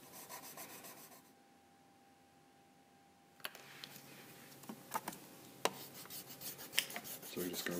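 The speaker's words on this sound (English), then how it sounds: "So we're just going to rub out all our construction lines here." A rubber eraser scrubs pencil construction lines off drawing paper, with a brief soft rasp, a quiet pause, then steady close-up back-and-forth rubbing broken by light clicks and taps, with no voices.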